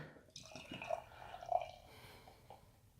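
Ookla the Mok barrel-aged beer from Thin Man Brewery poured into a glass, a soft trickling and splashing with a couple of gurgling glugs, quiet and close.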